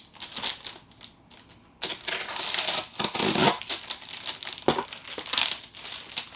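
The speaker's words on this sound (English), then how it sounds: "Let me rip this out of the package real quick" Crinkling, tearing plastic wrap and cardboard packaging of a flimsy roll-up corner sink drying rack, fairly close and loud in irregular bursts with brief pauses.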